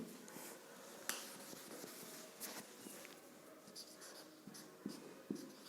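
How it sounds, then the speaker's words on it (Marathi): Chalk or marker writing on a board during a chemistry lesson, heard as faint scratchy strokes with sharp taps between them, quiet and close, with no talking. "जरा मोठं लिहितो."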